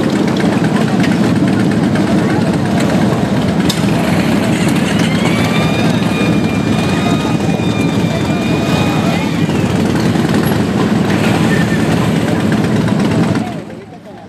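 Idling engines of a motorcycle caravan escorting a quinceañera through downtown Bucaramanga, a steady loud low rumble throughout, with a brief whine in the middle and the sound dropping off at the end.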